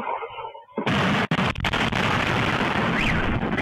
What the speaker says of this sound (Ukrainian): Звуки потужних вибухів потрапили на записи місцевих камер спостереження.